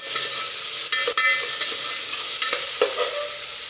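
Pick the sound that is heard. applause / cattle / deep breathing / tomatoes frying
tomatoes frying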